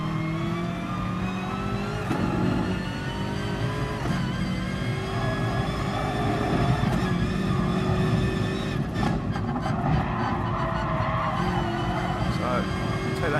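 A Gr3 race car in GT Sport roars around the Nurburgring 24h circuit at night, its engine revving loudly and climbing through gears with shifts and lifts, continuous and close, while someone talks over it.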